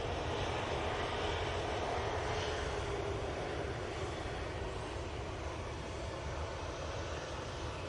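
Steady, continuous roar of an airplane engine at Manchester Airport, heard from a distance at a constant moderate level with no talking.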